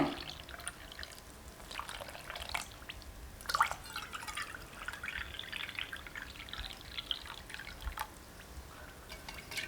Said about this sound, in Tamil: ரெண்டு கப் அளவுக்கு தண்ணி சேர்த்து நல்லா கட்டிகள் இல்லாமல் கரைச்சி வச்சுக்கலாங்க